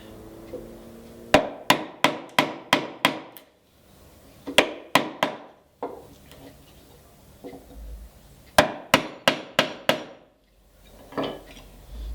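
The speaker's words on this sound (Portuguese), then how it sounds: "com o formão, vem com o outro formão aqui, sistema de alavanquinha, ó, tirando, vai tirando" A chisel worked into a wooden mortise to lever out the waste: close, sharp wooden knocks in quick runs of five to seven, with short pauses between the runs.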